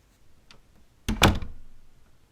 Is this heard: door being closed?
yes